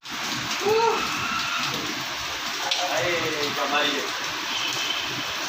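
Heavy rain in Hyderabad with floodwater pooling, a steady broadband hiss of falling and running water, continuous and close, with someone speaking over it.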